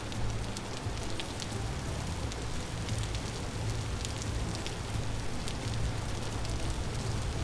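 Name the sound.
rain in the video game Vintage Story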